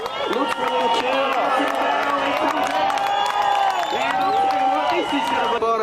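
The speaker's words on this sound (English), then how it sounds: "listen to the crowd cheering on Beat Davids as he floats on the inside" Large beach crowd cheering and whistling for a surfer at the Quiksilver Pro Gold Coast, a loud, sustained roar with overlapping shouts that swell and dip, commentary voices running over it.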